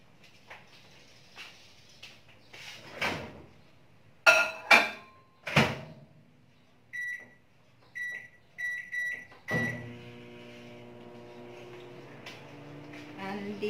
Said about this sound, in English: I make it hot in the microwave.